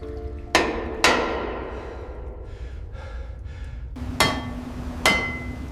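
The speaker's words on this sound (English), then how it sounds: "I hear them! They're tapping back!" Sharp metallic taps ring out against an oil pipe as trapped divers tap back: two strikes, a pause with faint breathy sounds, then two more clanging taps over a low rumbling background.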